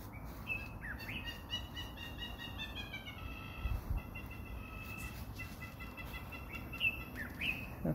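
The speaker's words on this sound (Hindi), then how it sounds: "कोयल की भी आवाज़ आ रही है।" An Asian koel calls in a garden, its repeated rising whistled notes standing out over a steady outdoor background, with faint bird chirps and occasional clucking-like calls around it.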